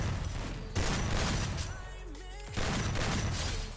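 Blasts from an M1887 shotgun in the Free Fire game, with two heavy shots a couple of seconds apart standing out over busy gunfire and game noise.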